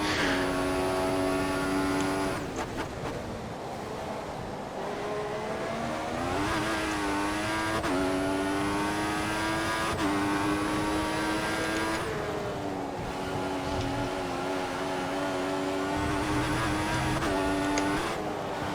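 Formula One car engines in F1 2014, loud high-revving whines that climb through the gears, drop sharply at each shift and repeat in cycles.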